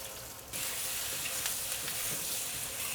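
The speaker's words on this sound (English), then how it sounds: "I'm just going to add these peppers and leeks all together." Peppers and leeks drop into a hot wok over high heat with chili oil and fermented black beans. A soft hiss jumps into a loud, steady sizzle that carries on close by, with no talk.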